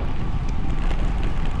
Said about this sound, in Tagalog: Bumaliktad ang hangin.